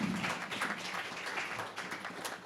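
A town hall audience applauds three state lawmakers, producing a dense, steady wash of many hands clapping together at moderate loudness for the full stretch.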